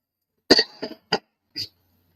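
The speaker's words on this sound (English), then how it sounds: "still have a slight cough" A person with a slight lingering cough from a recent virus coughs several times in quick succession, one strong burst followed by three shorter, softer coughs, close and alone.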